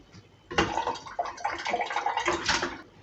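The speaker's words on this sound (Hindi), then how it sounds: "एक कुकर में 2 गिलास पानी डालेंगे" Water is poured into a pressure cooker, a steady close splashing gush that lasts a few seconds at modest loudness with no talking over it.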